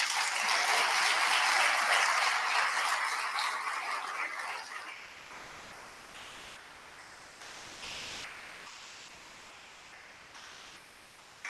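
Audience applause at an annual community federation meeting, a dense burst of clapping from a large crowd that is loud at first, then gradually thins and fades over several seconds.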